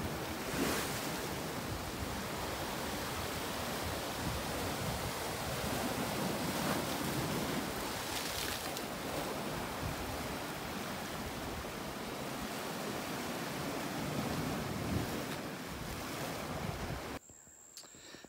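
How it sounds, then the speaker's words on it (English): Salt water surf washes in against the rocks of an island shoreline, a steady, loud roar of breaking waves that runs unbroken for most of the stretch before cutting off abruptly near the end. "it's right on the rocks with salt water coming in at it."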